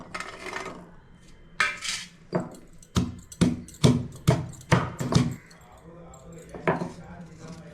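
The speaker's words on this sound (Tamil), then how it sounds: "இதை வந்து இந்த இடி உரலில் போட்டு நல்லா இடித்து எடுத்துக்கலாம்" Garlic and small shallots pounded in a stone mortar, a steady series of about ten heavy thuds with a gritty clink, close and loud, with faint talk between the strikes.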